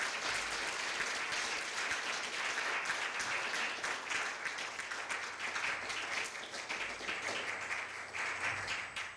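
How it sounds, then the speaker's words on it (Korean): An audience at a university law institute award ceremony applauds steadily for about nine seconds, a dense, even wash of many hands clapping at moderate distance. "큰 박수 부탁드립니다"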